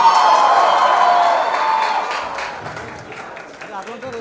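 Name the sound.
audience cheering and applause after a performance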